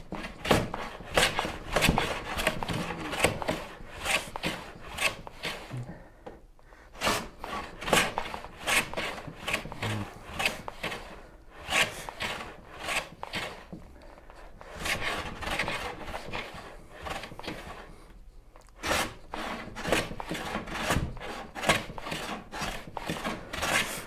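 Hand plane shooting an edge on a Shaker Enfield cabinet part, taking wood shavings in repeated rasping strokes, close and fairly loud, with short pauses between bursts.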